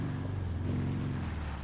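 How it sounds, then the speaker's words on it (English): A car in GTA Online drives past on a road up ahead, giving a steady low engine rumble that holds at an even level throughout with no talking over it. "car going by up there"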